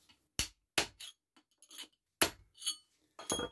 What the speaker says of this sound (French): vous n'avez rien vu pour les derniers coups de marteau avec ma grosse main